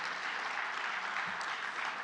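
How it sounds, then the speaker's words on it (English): Audience at an evening lecture event in northern Michigan clapping steadily, a soft, even patter of applause throughout. "We can clap for all of these latitudes together."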